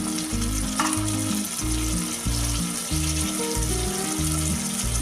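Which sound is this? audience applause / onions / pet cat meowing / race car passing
onions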